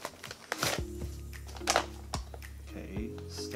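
Paper crackles and rustles in a few short bursts as it is pulled from a shipping box sent from Hong Kong, close by, over a steady low hum.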